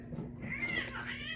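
Two cats that have been cornered yowl and meow at each other in a short, strained exchange, a rising and falling drawn-out cry close by with a steady low hum underneath.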